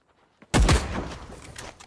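A single sharp gunshot crack from the video game The Cycle Frontier, loud and close after a short silence, with a brief fading tail.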